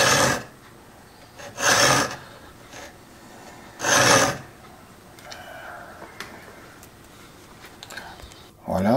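Short rasping strokes of a triangular file across the teeth of a marquetry veneer saw blade, three loud bursts spaced a couple of seconds apart, with quieter scraping and faint handling noise between them.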